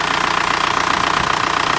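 A TDI diesel engine idles steadily at close range, a continuous rough drone with a fine rhythmic clatter and no other sounds over it.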